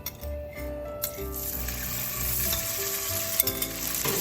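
Blanched and cooled gnocchi sizzle and fry in a hot pan where solids are browning, a loud, steady close-up crackle with a few clinks and stirring sounds.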